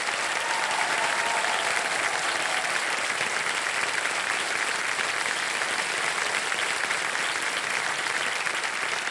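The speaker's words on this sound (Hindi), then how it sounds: "ताली बजती रहे शुक्रिया के लिए।" A studio audience on the TV quiz show Kaun Banega Crorepati claps loudly and steadily, a dense, even wash of applause that holds for the whole stretch.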